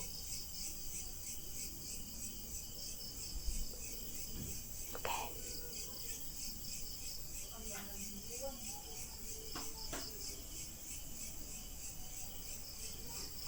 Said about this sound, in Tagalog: Naririnig nyo kuliglig.